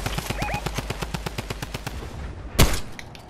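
Rapid automatic gunfire in a video game, a steady rattling burst of evenly spaced shots lasting over two seconds, followed by a single louder blast near the end.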